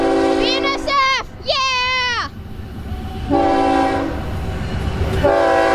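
BNSF heritage freight locomotives pass close by, sounding several loud, sustained horn blasts over a steady rumble of rolling wagons, with excited voices shouting over the noise.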